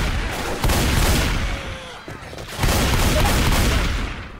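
Dense, loud bursts of gunfire in the video game Left 4 Dead 2, overlapping rapid shots with deep booming lows filling the whole few seconds, with a brief dip near the middle.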